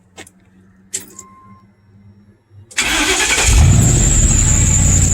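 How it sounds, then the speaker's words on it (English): A Ford 302 V8 in a 1972 Ford F100 cranks and fires after a few faint clicks and key jangles, then settles into a loud, steady, rumbling run that fills the rest of the clip. "let me start it up for you guys. Keys are in it."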